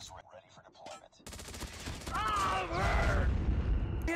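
Rapid gunfire from a Call of Duty Mobile gunfight, including submachine guns and a shotgun, rattles loud and continuous through the second half after quieter opening clatter, with game effects layered on top.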